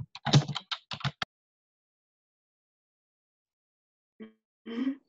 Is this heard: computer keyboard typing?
yes